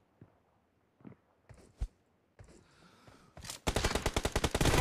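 Gunfire in the mobile battle royale game PUBG Mobile: a few isolated single shots first, then a fast, loud automatic burst of rapid rhythmic rounds closing out the stretch.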